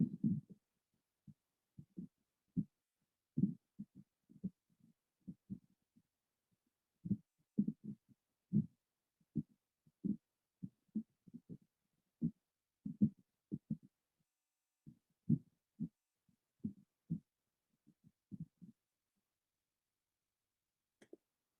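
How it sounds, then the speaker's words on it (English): Wind on Mars picked up by a lander's seismometer and raised two octaves, heard as low, muffled thumps and rumbling pulses in irregular bursts, alone and fairly faint throughout. "this is the sound of the wind on Mars"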